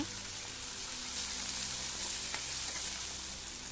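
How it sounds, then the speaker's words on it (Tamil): Chopped tomato sautés with onions in a pan for a mutton fat fry, giving a steady hissing sizzle with occasional small pops, close and continuous throughout. "இதில் ஒரு தக்காளியை கட் பண்ணி எடுத்து வச்சுருக்கோம் அதை போட்டு நல்லா வணக்கி விட்டுக்குங்க"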